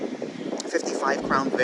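High wind buffets a microphone outdoors beside a 1955 Ford Crown Victoria glass top, a rough low rumble with gusts under someone talking loudly.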